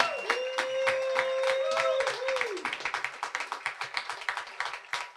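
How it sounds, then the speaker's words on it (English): Audience applause for Dr. Martin Luther King Jr. scholarship recipients at an awards ceremony: a voice speaks at first, then many hands clap in a steady, fairly close patter that fades after a few seconds. "Let's give them a big round of applause."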